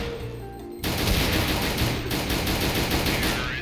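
Rapid automatic gunfire in a Counter-Strike: Global Offensive match bursts in abruptly and keeps rattling loud and dense, with no voices over it.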